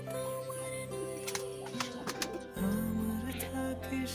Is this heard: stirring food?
no